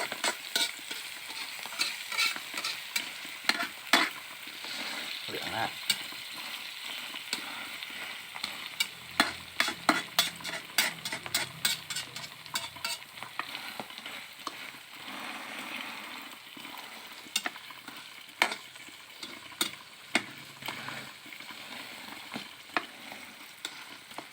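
A crispy Thai stuffed omelette frying in a pan, with a continuous bright sizzle of hot oil and frequent sharp crackles and pops, stirred now and then.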